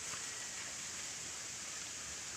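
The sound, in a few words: heavy rain falling on a farm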